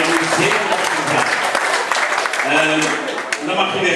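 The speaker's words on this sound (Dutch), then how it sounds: "Geef ze nou een applaus." Dense applause from an audience at a graduation ceremony, honouring the teachers who supported the students, with cheering voices mixed in and fairly loud throughout.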